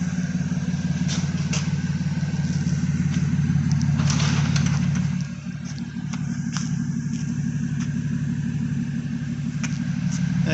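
Audi B8 S4 idling with a freshly repaired exhaust awaiting new welded tips, a steady low rumble held close by with a slight dip partway through, with no voices and faint background clinks.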